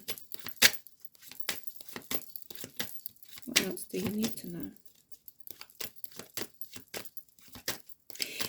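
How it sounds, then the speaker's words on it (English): Quick papery riffles and soft slaps of tarot cards being shuffled, in short bursts, with a voice speaking over them. "as I'm shuffling these cards"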